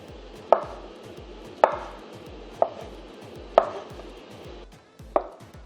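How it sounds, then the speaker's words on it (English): A knife slicing bananas into thin slices on a cutting board, five distinct sharp taps spaced about a second apart, close and clear with a faint background hum and no talk. "Now cut them into thin slices."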